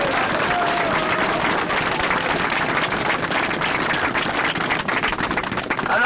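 A crowd at a political speech claps steadily and loudly throughout, a dense, continuous applause with no pauses.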